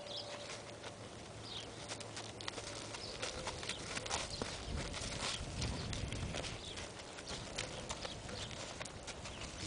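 A horse walks with a steady, rhythmic clip-clop of hooves at moderate distance, faint and even, with a soft rustling background and occasional bird sounds.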